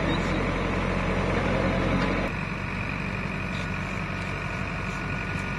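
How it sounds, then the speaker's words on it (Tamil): A tractor and a JCB rumble on a cyclone-battered coast while hauling fishing boats to safety. Loud, steady diesel engine drone with a grinding wash that drops in intensity partway through. "படகுகளை டிராக்டர் மற்றும் ஜேசிபி உதவியுடன் மீனவர்கள் பாதுகாப்பான பகுதிகளுக்கு இழுத்து செல்கின்றனர்"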